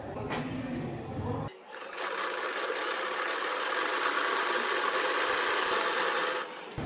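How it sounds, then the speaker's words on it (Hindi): Sewing machine stitching piping onto a baby frock skirt, a sustained loud whirring run after a brief stop-and-start opening, steady and close until it cuts off near the end. "चलिए अब यहाँ पे रख कर सिलाई लगाते हैं।"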